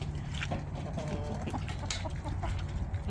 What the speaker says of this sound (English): Here, roosters, go see your girl.